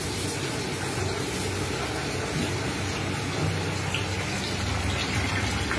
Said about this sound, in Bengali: চলো রাইসটাকে ভালো করে ধুয়ে নিই